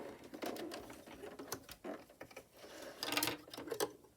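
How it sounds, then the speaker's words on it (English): Sewing machine stitching in place to lock a seam on a doll's mini skirt, short irregular bursts of close mechanical whirring and clicks, with no talk. "now I'm just going to sew in place again to lock this in"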